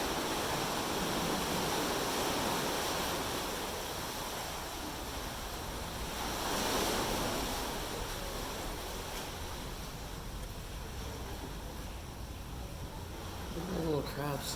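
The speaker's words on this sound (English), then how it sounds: "we are being bombarded by waves right now" Ocean waves crash and wash at the entrance of a sea cave on a beach, a constant broad roar that swells and recedes, fairly loud and unbroken.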